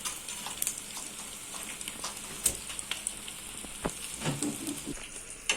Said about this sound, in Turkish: bir de biber pişirelim güzel olur